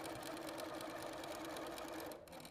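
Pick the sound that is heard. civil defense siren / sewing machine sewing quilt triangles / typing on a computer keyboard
sewing machine sewing quilt triangles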